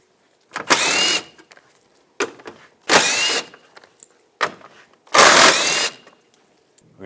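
A power ratchet with a 10mm socket spins bolts out on a GMC Sierra, three loud, close whirring bursts of about half a second each, separated by quiet gaps with small clicks between them.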